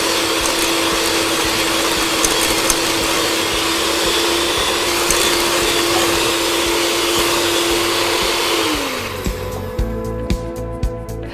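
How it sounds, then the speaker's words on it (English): An electric hand mixer runs continuously at a steady high whine while beating banana bread batter with eggs and butter, close and loud, then winds down and stops near the end, leaving a few clicks. "get your mixer, mix it all together"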